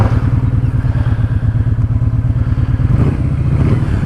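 Kawasaki Vulcan Vaquero motorcycle engine turning over and settling into a steady, loud, close-up idle with rapid regular firing pulses, a slight change in tone near the end.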